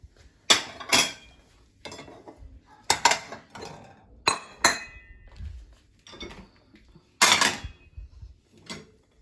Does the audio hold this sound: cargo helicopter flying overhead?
no